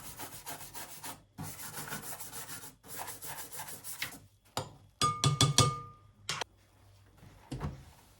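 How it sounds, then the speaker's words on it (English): A toothbrush scrubs inside a Tower air fryer, making rapid, close scratchy bristle strokes in bursts separated by brief pauses, with a few small knocks near the end. "a designated cleaning toothbrush so I can get into all of the nooks and crannies"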